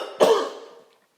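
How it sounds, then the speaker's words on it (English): One single cough, close and abrupt, fading quickly into silence. "I don't know where the cough came from."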